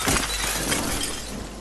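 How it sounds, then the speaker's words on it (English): Window glass shatters in a Friday the 13th video game, a loud, close crash of breaking panes with a bright, sustained spray of falling shards. "one of the reasons for smashing out these windows"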